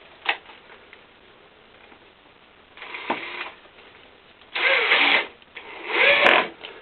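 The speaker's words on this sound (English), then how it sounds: "I can start to put the screws in" A drill driving screws into a hardwood shadow box frame, several separate whirring bursts that grow longer and louder, with quiet handling noises in between.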